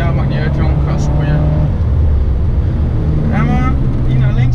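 A Seat Leon Cupra 290 pulls hard at full throttle around the Nordschleife, a loud in-cabin engine drone rising and falling in pitch with wind rush, while voices talk over it.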